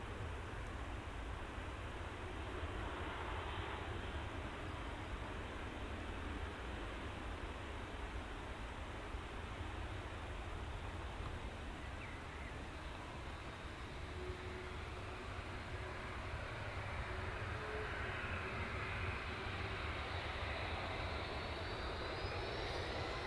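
A Ryanair jet rolls down the runway at Heathrow on its takeoff run, giving a steady, sustained broadband engine roar that holds at an even level throughout with no voices.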